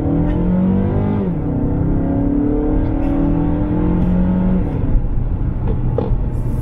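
A 2021 Mazda3 sedan with 186 horsepower accelerates hard at full throttle, its engine note climbing steadily through the revs, dropping briefly at a gear shift, then rising again, loud and heard from inside the car.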